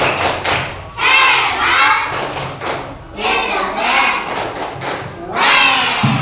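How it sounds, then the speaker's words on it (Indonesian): An elementary-school class of fourth graders doing a rhythmic patterned clap in unison, bursts of claps and thumps on desks in repeated sequences, with children's voices chanting along. "Kita kasih tepuk hebat buat kelompok 2"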